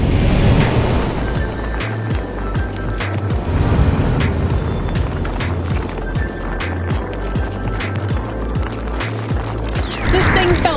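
A 2019 Honda Odyssey minivan rolls downhill on an icy, snowy woodland road, tyres crunching and rumbling continuously over the packed snow with a steady low road noise throughout.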